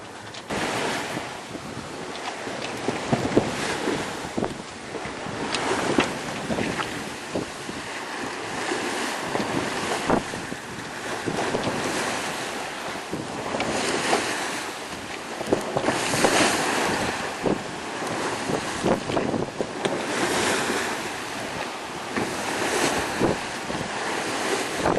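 A sailboat out at sea on an Atlantic crossing, with steady wind roaring across the microphone and waves surging and washing against the hull, continuous and fairly loud with no one speaking.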